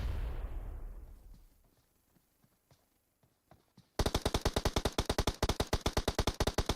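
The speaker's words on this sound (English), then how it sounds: "Another nade comes into the smoke" A grenade goes off in a competitive esports shooter scrim. Its booming blast fades over a couple of seconds into near quiet, then a long run of rapid, loud gunshots follows. No one speaks.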